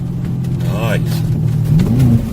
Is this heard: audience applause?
no